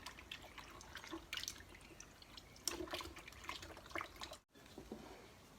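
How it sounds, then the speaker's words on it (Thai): Salted cabbage for kimchi being rinsed in water: faint irregular splashes, drips and trickles with soft knocks, close by and quiet, briefly cut by a moment of silence near the end. "ล้างเอาเกลือออก จะล้างประมาณ 2-3 น้ำนะคะ"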